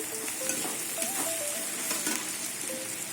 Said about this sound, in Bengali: রসুনটা একটু এখানটা ভেজে নেব